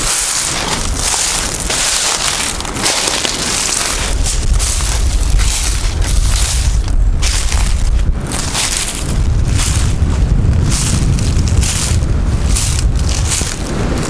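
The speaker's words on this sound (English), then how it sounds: "Hopefully that wind won't get too loud for you." Wind blowing outdoors along a stream trail in St Joe State Park, roaring and buffeting the microphone in loud, continuous gusts that swell and ease throughout, with no talking.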